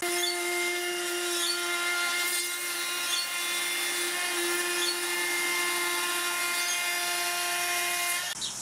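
A Makita 40V cordless router fitted with a roundover bit spins at speed setting 3, a steady high pitch with a constant whine and buzz, running continuously before winding down abruptly at the end.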